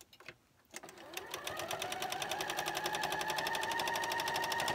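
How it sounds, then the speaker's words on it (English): A sewing machine chain-stitches quilt block units for an Ohio Star quilt, starting after a brief pause and running as a steady, fast, even stitching rhythm, close and clear, with no talking. "This is chain stitching"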